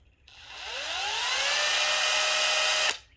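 Milwaukee M12 hammer drill on speed setting 1, low speed/high torque, spins up with a rising whine that climbs and holds steady for about three seconds, then cuts off sharply; close and fairly loud, no voices.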